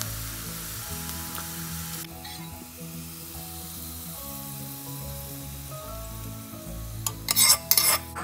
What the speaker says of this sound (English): will temper our khichdi with this lila lasan